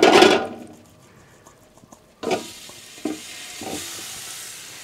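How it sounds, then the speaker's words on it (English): Chicken wings searing on a Ninja Foodi Max Grill, opening with a loud burst of sizzle as they hit the hot plate, then quieter taps and placements before a steady fainter sizzle resumes with a few clunks. "Already making a nice sear."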